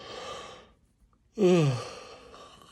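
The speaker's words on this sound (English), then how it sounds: "Sorry, yawning again." A single drawn-out human yawn, close and fairly loud, sliding downward in pitch after a stretch of near silence, with a soft breathy trail at the end.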